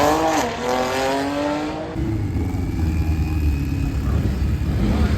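A Subaru-powered front-wheel-drive drag car with a giant turbo launches down the strip, its engine winding up in a rising howl, then dropping into a loud rough roar as it pulls away.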